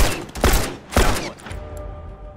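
Two loud gunshot bursts in a tactical shooter video game, roughly half a second apart, each trailing into a ringing decay, with faint lingering ambience afterward.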